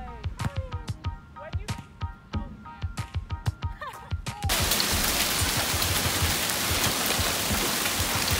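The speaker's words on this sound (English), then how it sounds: "It is hailing like crazy." Heavy hail falls outside, first as a quick run of sharp ticks and taps striking a surface, then swelling into a dense, loud, continuous roar, with a voice speaking faintly beneath the early taps.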